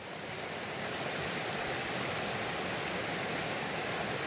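Rushing river water at a crossing on the Idaho Centennial Trail in the Frank Church wilderness, a loud, constant broadband roar that stays steady and close throughout with no voices.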